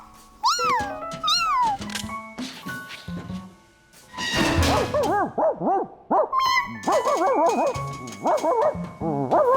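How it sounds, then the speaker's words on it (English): A cartoon dog barks and yips in a loud, rapid burst of bright, squeaky calls, briefly pausing before a cluster of repeated barks, with some whiny, meow-like cries mixed in. "The bark stopped."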